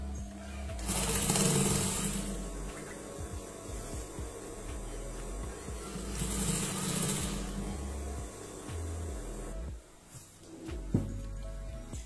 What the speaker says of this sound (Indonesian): bagian lipatan yang tadi sudah kita setrika ini, supaya tidak lepas dari atas, kita jahit sekitar 5 cm.